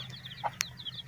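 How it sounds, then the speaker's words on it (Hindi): Small chicken chicks peep in quick, repeated high chirps beside a road, faint and close, with a brief cluck and a short sharp click in the middle. "छोटे बच्चे हैं मुर्गी के"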